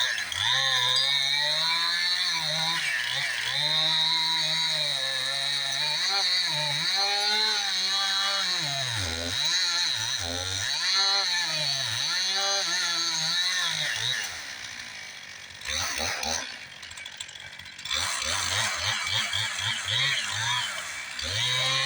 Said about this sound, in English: He's running the 261 still today. It's got a narrower kerf chain, and it has a tendency to bog up a little bit in this frozen wood.